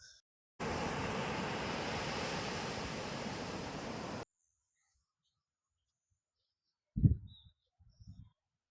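Surf at Marina Beach, Chennai: a loud, steady broadband wash of breaking waves fills the first few seconds and then cuts off abruptly, leaving near silence broken by a couple of brief low thumps near the end.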